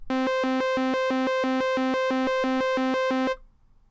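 An Arturia Modular-V software synthesizer sequencer plays ten or so evenly spaced, bright buzzy notes on one repeating pitch in a steady pulse, then stops, leaving a faint tail.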